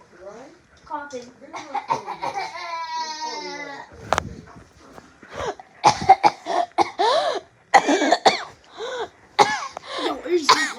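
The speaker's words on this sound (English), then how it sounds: "Are you laughing or coughing? Coughing." A person coughs repeatedly as a prank, rapid hacking fits with strained, wheezy throat sounds between them, loud and close, with others talking and reacting in between.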